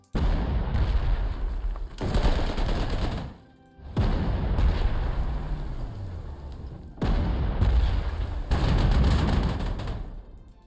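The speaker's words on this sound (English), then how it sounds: "The artillery will fire, I know this." Heavy artillery fire from the Panzer Corps 2 war game booms out in long, loud rolling bursts, each lasting a couple of seconds and separated by brief lulls, with no talk over it.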